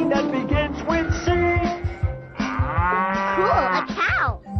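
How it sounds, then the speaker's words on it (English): A cow moos several times in a row, with long, loud, drawn-out calls that come close together and fill the clip, with no talking over them. "Cool, a cow."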